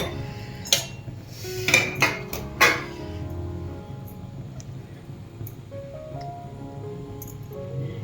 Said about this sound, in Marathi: आपण आता हे एका ताटात काढून घेऊया.